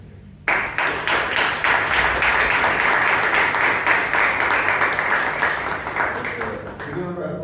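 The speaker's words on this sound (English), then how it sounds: "Give a round of applause" Sudden, steady applause breaks out from an audience at a Toastmasters club meeting, sustained for several seconds before fading as a voice begins.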